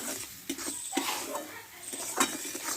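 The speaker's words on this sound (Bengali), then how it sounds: "মশলাটা ভালোভাবে আমি কষে নিয়েছি" Masala being fried and stirred in a pan for bitter gourd curry, soft sizzling with repeated scrapes and clinks of a spoon against metal, fairly quiet and without talking.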